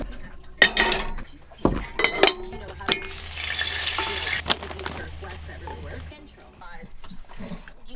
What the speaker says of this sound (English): So we are washing dishes multiple times a day.